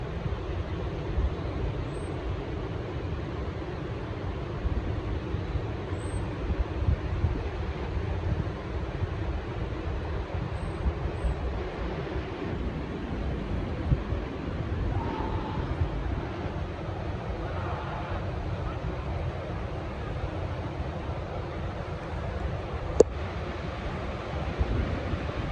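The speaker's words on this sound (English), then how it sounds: "Let's just sit here and listen to the ocean a little bit" Ocean waves at Oceanside, California, a soft steady wash of surf with some wind buffeting the microphone and no talk.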